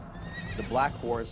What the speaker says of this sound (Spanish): Y vi aparecer un caballo negro, cuyo jinete tenía una balanza en la mano.